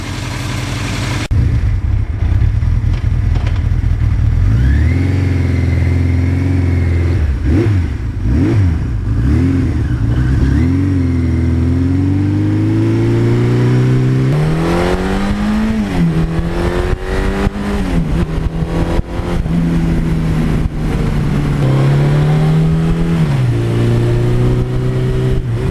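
A 1982 Suzuki GS1100E motorcycle rides along an open road, its engine loud and close as it revs up through the gears, drops back and pulls again, with a constant rushing drone throughout.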